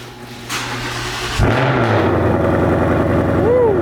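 A Ford Mustang S550 cranks and fires up in a garage with a sudden loud bang-like catch, then settles into a rough, rumbling idle that continues steadily.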